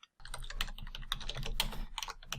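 Steady typing on a computer keyboard as a message is entered, a dense run of close, crisp key clicks with uneven rhythm and occasional heavier keystrokes, no voices.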